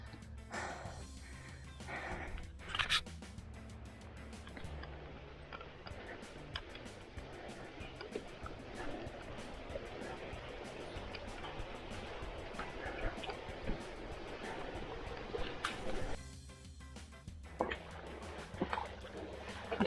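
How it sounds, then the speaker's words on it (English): People wade and slosh through a shallow creek on the Mill Creek hike beside a mountain near Moab, Utah, with steady close splashing and rushing water that continues throughout. "we are slouching through the creek"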